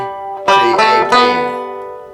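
An Irish tenor banjo picks a few bright notes ending on B, with three sharp plucked attacks in quick succession, each ringing close and clear before fading out.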